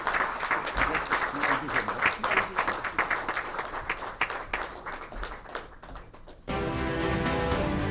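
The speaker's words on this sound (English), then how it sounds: "Round of applause as ma'am recites." Conference audience at a manufacturing conclave claps in a round of applause that tapers and thins over about six seconds before music with sustained tones takes over.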